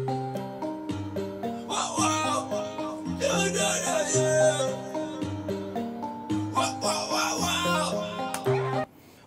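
Intro melody of a song, a bright synth and keyboard line of stepping notes over a steady beat, loud and close, cutting off abruptly at the end.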